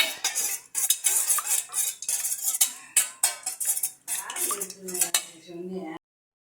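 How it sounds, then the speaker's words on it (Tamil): A utensil beats two eggs in a bowl in quick clinking bursts, close and steady, with brief pauses, ending in a few softer scrapes. "ரெண்டு முட்டையை உடச்சி ஊற்றி அதை பீட் பண்ணிக்கிறோம்"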